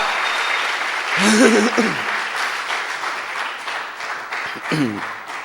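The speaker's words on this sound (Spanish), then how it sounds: "Dámosle un aplauso a Dios" A church congregation applauds in a steady wash of clapping while a voice calls out twice over it.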